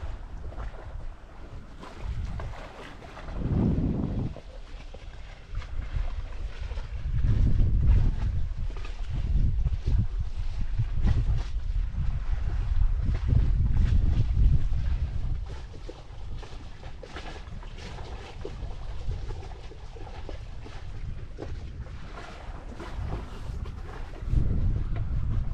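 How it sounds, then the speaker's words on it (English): A sailboat cruises through Norwegian fjords toward Dalsfjorden, carrying steady rushing water along the hull and buffeting wind on the microphone, with louder gusty swells and no talking. "And we're sailing."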